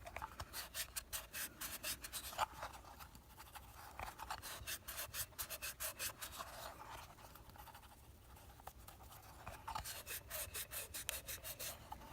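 A paint brush rubs brown and black paint onto a GTP Toys pickles barrel to weather it, making soft, rapid dry scrubbing strokes in repeated bursts, close and faint, with no speech.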